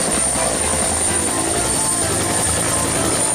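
A helicopter sound accompanies a toy helicopter, with a loud, steady thudding rotor whir and engine drone that runs unbroken throughout and no talk over it.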